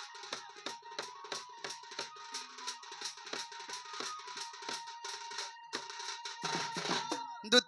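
A mobile phone ringtone goes off during a traditional Danda Nrutya folk performance, a quick repeating electronic melody of bright tonal pulses. It plays steadily at moderate volume for several seconds, with no talk over it.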